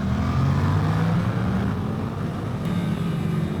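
A Suzuki GSX-8R twin-cylinder motorcycle engine drones steadily while riding, a continuous low hum with a slight pitch dip midway and no voices.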